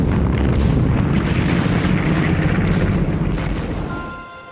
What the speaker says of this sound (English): Tanks led the way, grinding over the rubble and firing point blank into courtyards.